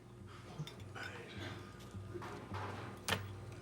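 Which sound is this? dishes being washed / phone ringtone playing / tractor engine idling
dishes being washed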